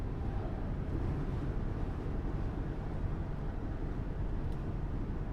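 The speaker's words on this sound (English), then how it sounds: "Engine sounds great." A 2003 Toyota Tacoma engine idles with a steady, low, even rumble that holds constant throughout, close to the listener and with no voices.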